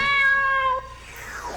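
A single clear cat meow, close and loud, rising then trailing off, from the Wind Up Kitten card in an anime card game.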